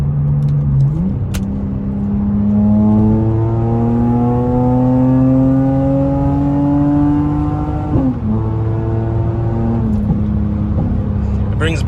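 A non-turbo 2JZ engine with an HKS Hi-Power single-exit exhaust revs up through several gears, its exhaust note rising steadily and dropping at each shift, loud and close throughout.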